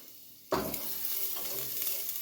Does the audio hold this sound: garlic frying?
yes